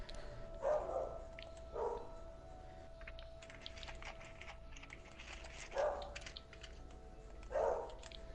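A dog barks in short bursts, four separate barks spaced unevenly, somewhat distant, over a quiet room hum.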